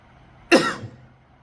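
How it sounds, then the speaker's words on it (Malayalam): A single sharp cough, close and loud, breaking a near-silent background. "ചുമയുണ്ട്"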